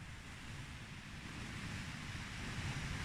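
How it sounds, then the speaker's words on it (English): Choppy sea waves churn and break against an Isle of Wight shore in the evening as the tide pushes in, with gusting wind buffeting the microphone in a steady, rough roar throughout. "wind's picked up, so I don't know what you can hear, and the sea's really getting choppy now"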